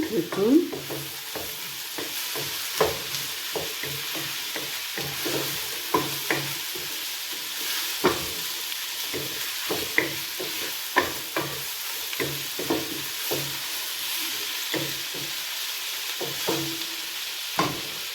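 Tomato being stirred in a frying pan, a soft sizzle underneath repeated sharp taps and scrapes of the spoon against the pan at an uneven rhythm.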